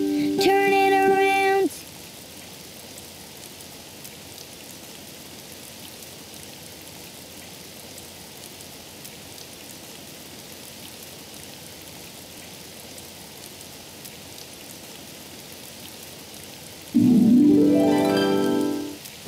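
Rain falling outside, a soft continuous patter that runs steadily through the middle, framed by brief tonal musical bursts at the start and end.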